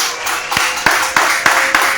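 A single person claps slowly and evenly, about five sharp claps roughly a third of a second apart, over a steady hiss on a French-language radio broadcast.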